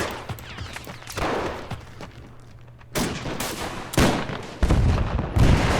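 Gunfire and a grenade blast in a Chaco War 1933 video game: bursts of sharp shots cracking at irregular intervals, growing heavier and louder toward the end, with no talking.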